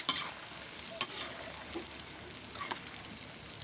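Wontons deep-frying in oil, an even crackling bubble with small pops scattered throughout, close but faint and steady with no voices.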